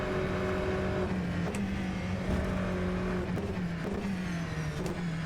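A Formula 3 race car is out on track testing, its engine note rising and falling through gear changes with a faint squeal of tyres, continuous and fairly close, no voices over it.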